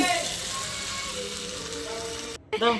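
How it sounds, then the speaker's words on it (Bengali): Chicken sizzles in a hot pan as it is sautéed, a steady close frying hiss with a voice speaking over it and a brief pause near the end. "চিকেনটা এবার দিয়ে দিচ্ছি, দিয়ে সাথে কিন্তু এবার কষিয়ে নিচ্ছি"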